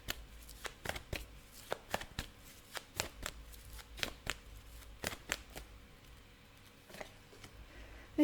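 Tarot cards are shuffled over and over, a run of crisp riffling snaps and soft flutters at a steady uneven rhythm, close and fairly quiet, with no talking.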